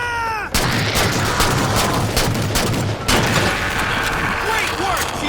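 Heavy weapon fire in the video game Halo 4, repeated loud booming shots and bursts over roughly five seconds, with a soldier's voice calling out and chirping electronic tones mixed in.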